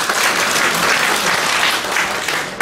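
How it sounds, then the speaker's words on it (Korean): Applause from an audience at a regional residents' association award ceremony in Gyeongsangnam-do, dense and steady clapping filling the room throughout, with no talk over it. "큰 박수 부탁드립니다"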